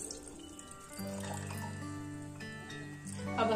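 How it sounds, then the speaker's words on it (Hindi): Water poured from glasses into a pressure cooker holding sweet corn, a soft, steady, close trickle and splash lasting a few seconds, faint and alone. "अभी हम इसमें 3 ग्लास पानी डालेंगे।"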